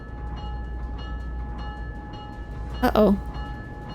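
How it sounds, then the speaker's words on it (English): A train pulls away in the video game Syberia: The World Before, a steady low rumble with a brief loud horn-like burst near the end, while a voice speaks briefly. "that train is leaving."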